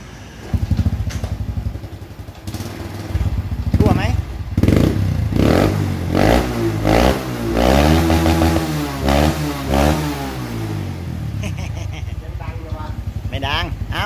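A motorcycle exhaust blips repeatedly, each rev rising and falling in quick rough bursts over a steady idle, loud and close.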